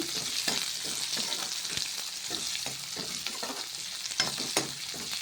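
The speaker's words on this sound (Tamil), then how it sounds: "சின்ன வெங்காயம் போடுறேன் நல்லா வதக்கிட்டுக்கோங்க" Small shallots sauté in a pan with steady sizzling, broken by repeated scraping strokes of a spoon close by, and no one speaking.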